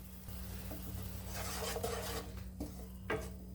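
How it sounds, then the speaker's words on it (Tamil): A spoon stirs and scrapes rasam spices and tomatoes sautéing in a pan over high flame, soft clinks and scraping strokes over a faint sizzle and steady hum, quiet and close. "கொஞ்சம் ஹை ஃப்ளேமில் வச்சு ஒரு ரெண்டு நிமிஷம் வதக்கி விடுங்க"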